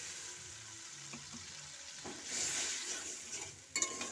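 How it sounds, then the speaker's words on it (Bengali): Water hits a hot pan of banshpata fish curry masala with coriander, setting off a loud hiss and sizzle that swells midway, alongside soft stirring and a clink of utensils. "আমি এবার এর মধ্যে পরিমাণ মতন জল দিয়ে দিচ্ছি"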